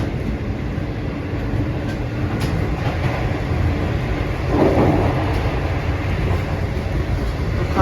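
The Shalimar Express, running from Karachi to Lahore, passes through Meetha Butta railway station with a loud, steady rumble of rolling wagons and rhythmic clatter throughout, heard from inside the train.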